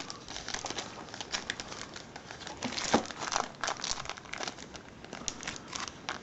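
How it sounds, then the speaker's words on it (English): A plastic bag around a new Samsung Galaxy S5 is crinkled and ripped open during unboxing, giving close, continuous rustling with a sharper tearing burst midway. "I don't want to rip the bag, but there we go"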